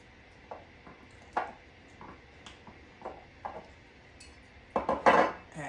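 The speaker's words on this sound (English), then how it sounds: "And I would just stir this." A spoon stirs eggnog with bourbon in a glass, light irregular clinks and taps, growing to a louder burst of clinking near the end, quiet and close.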